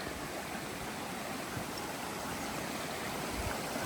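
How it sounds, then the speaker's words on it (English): A small stream at a water crossing on the Appalachian Trail near Waynesboro, Virginia, gives a steady, even trickle and rush of flowing water, close and fairly soft, with no voices. "here's a cool little water crossing here"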